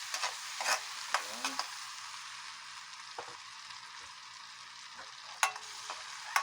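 Onions frying in a pan for escabeche as they are stirred, a fairly quiet steady sizzle punctuated by sharp utensil scrapes and taps, with a single short spoken word.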